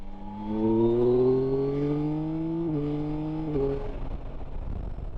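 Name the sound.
Yamaha Tracer 9 GT+ motorcycle accelerating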